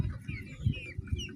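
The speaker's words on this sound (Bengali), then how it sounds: "তো বাহামা মুরগি" A Bahama hen clucks close by in a short run of low, throaty clucks, with faint bird chirps in the background.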